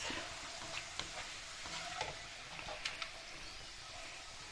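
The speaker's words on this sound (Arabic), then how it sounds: "البصل احمر اهو، عشان يقرمش البصل" Onions frying until red and crispy for green bessara, a steady close sizzle with occasional sharp clicks and pops of stirring, no talk.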